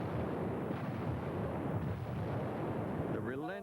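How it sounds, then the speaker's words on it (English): Battleship 16-inch naval guns firing a bombardment: a dense, continuous rumbling roar of heavy gunfire and blasts, loud and sustained, with a narrating voice over it near the end. "The relentless bombardment from their 16-inch guns helped pave the way"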